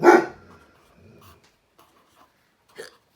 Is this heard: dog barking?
yes